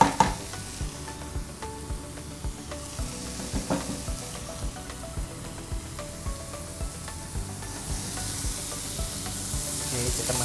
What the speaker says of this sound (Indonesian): Oke, kita masak sebentar bawang putihnya.